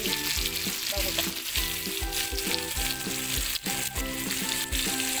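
Halwa fish coated with ginger garlic paste fries in hot oil on a heated tava, giving a steady, close sizzle with soft crackles throughout.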